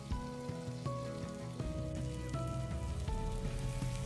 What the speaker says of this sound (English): Make sure to get an even sear on the entire roast.